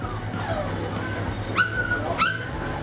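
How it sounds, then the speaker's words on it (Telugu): A heavy long-coat German Shepherd puppy at a pet shop lets out two short, rising whimpering yips about a second apart, over a low, constant background hum. "ఇది కూడా ఇది జర్మన్ షెఫర్డ్ అండి"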